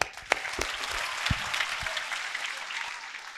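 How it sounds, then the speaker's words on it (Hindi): An audience at a school motivational talk claps together, a dense burst of applause with a few sharp individual claps near the front, lasting a few seconds. "इनके लिए खूब जोर से तालियां।"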